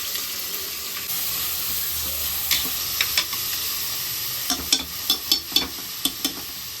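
Onions frying in hot oil over a high flame for a home Sunday meat meal, a steady broadband sizzle with a run of sharp spoon-stirring clicks and scrapes growing more frequent toward the end.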